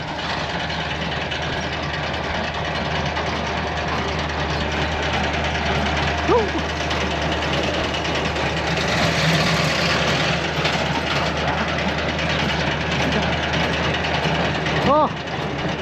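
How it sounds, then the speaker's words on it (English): A hay baler runs in a field of thin windrows, its loud, steady engine and machinery drone continuing unbroken from start to finish. "Just the one baler running today"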